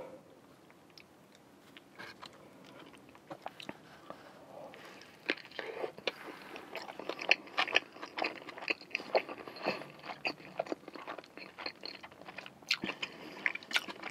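Crispy fries bitten and chewed close to the mic during a mukbang of chili cheese fries and cheeseburgers, with repeated crunchy bites and mouth sounds throughout, louder in the second half and no talk.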